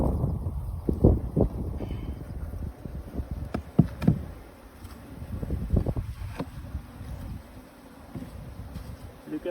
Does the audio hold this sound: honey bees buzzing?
yes